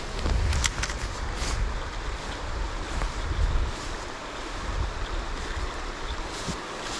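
Clear water from two creeks meeting at a deep hole near Wildcat Campground in Dawsonville, Georgia, with a steady broadband rush and wind noise on the microphone throughout, and no talking.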